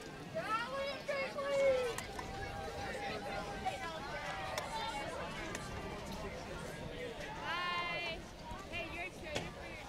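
Crowd leaving the stands after a high school football game between Triton and Ipswich, a busy hubbub of many overlapping voices and children's chatter passing close by, steady and fairly loud throughout.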